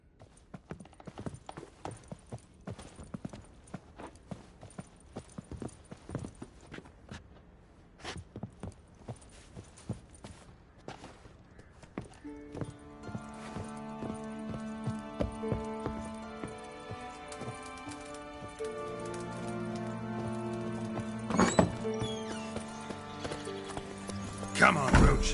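Roach the horse trots in The Witcher 3 video game, an even, quiet run of hoofbeats that gives way to rising orchestral music, with voices talking over it.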